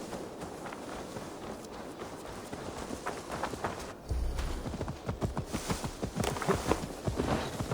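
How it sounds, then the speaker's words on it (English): Rapid rhythmic hoofbeats of a galloping horse in Assassin's Creed Valhalla pound on steadily, growing heavier midway, set against a constant background wash. "Now to deliver Magni his horse"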